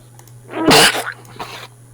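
A person gives a single sharp, explosive sneeze close to the microphone, with a short breathy tail afterward and no talk.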